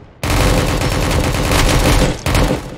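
Dense, continuous gunfire from many weapons in the Project Delta military airfield game, a loud, relentless barrage of overlapping shots with one brief dip near the end before the firing resumes.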